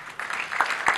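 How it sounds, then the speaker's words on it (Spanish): Audience applause at a security conference after a software tool demo, a short burst of scattered clapping from a small crowd, moderately near. "los aplausos son para el que hizo la tool"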